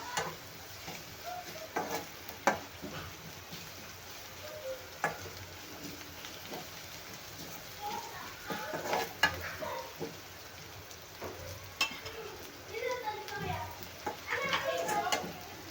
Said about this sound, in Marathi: तर आता इथे घालते मी आलं लसण आणि कोथिंबीर हे तिन्ही मिक्स केलेली पेस्ट एक चमच घातली आहे तेही छान भाजून घ्यायचं तेलामध्ये